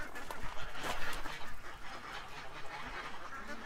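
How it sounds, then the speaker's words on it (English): Ducks and geese squabble and quack in farmyard mud, a jumble of bursts and honks at moderate distance, busier in the first half and then thinning to scattered calls. "Geese are fighting over in the mud"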